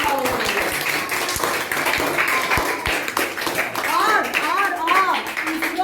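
Loud, dense clapping from schoolchildren at Gandhi Vidyalaya celebrating the Chandrayaan 3 success, continuous and close, with excited voices and shouts rising over the applause toward the end.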